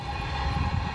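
A passing railway train's low, continuous rumble with a faint steady tonal hum, heard briefly without any voices.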